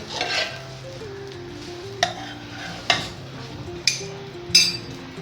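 Pav buns being tossed and toasted in a pav bhaji pan, with a low sizzle and a few sharp clinks and scrapes of a utensil against the pan, close and without talk.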